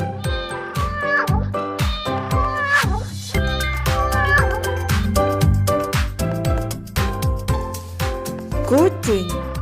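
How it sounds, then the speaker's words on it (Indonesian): A toy cat's recorded meow sounds a few times over bouncy, upbeat music that carries on throughout. "Kucing."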